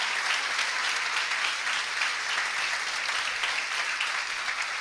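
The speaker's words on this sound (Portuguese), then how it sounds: "dê uma salva de palmas ao Senhor!" A congregation at a Sunday morning worship service claps in a full, even roar of applause that holds steady throughout, with no talking over it.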